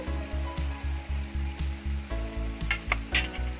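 Pav bhaji masala sizzling and frying in a pan, with a steady rhythmic scraping of the spoon as it is stirred, close and continuous.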